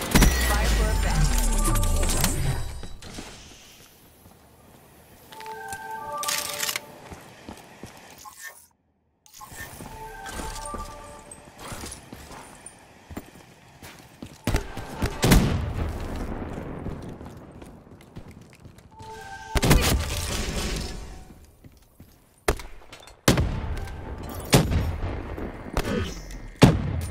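Artillery barrage in a military video game: a volley of heavy booms and rapid overlapping blasts hits in several loud bursts with quieter gaps, alongside clattering gunfire, with no voices.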